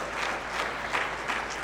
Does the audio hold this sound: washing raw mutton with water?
no